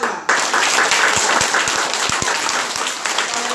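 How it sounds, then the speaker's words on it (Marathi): Dense, loud applause from a seated audience at a Lingayat religious teaching event, starting abruptly and holding steady throughout with a few sharper individual claps. "सगळ्यांनी टाळ्या"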